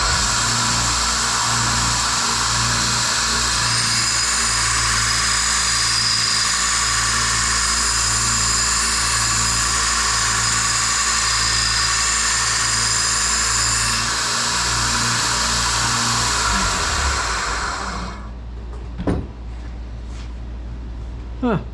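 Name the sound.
belt grinder with worn 24 grit belt grinding fire axe metal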